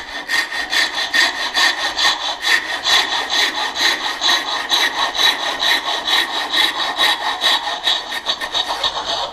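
A hand saw cuts a wooden dovetail joint in steady back-and-forth strokes, a loud, rhythmic rasping of about two strokes per second, close up, with no talking.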